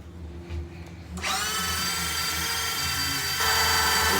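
A small electric grinder chops white onion, starting with a sudden high-pitched motor whine after a quiet moment and running steadily close by, rising slightly near the end.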